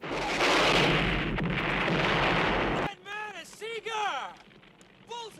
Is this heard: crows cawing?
no